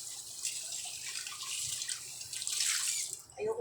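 Tap water runs steadily into a kitchen sink during dishwashing, a close, continuous splashing hiss with a brief louder gush near the end, and no one talking.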